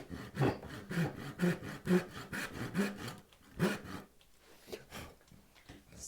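A hand saw cuts through wood for a picture frame in steady, rhythmic back-and-forth strokes, close and clear, before the cutting stops and a few faint scrapes follow.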